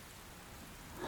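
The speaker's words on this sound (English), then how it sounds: "Let it sink into your mind while you listen to the rain." Soft, steady rain falls as a faint, continuous patter and hiss, swelling a little louder at the very end, with no voices.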